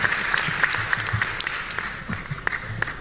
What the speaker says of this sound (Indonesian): Tepuk tangan buat Angkatan Udara kita.